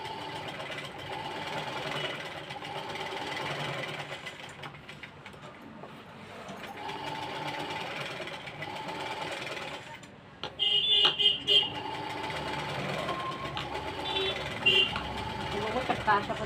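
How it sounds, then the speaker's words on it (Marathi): A sewing machine stitches tucks into a blouse in quick mechanical runs, pausing and restarting, with a brief sharper burst of clatter near the middle, while someone talks over it at moderate level. "अशा पद्धतीने मी इथे शिलाई करून घेत आहे"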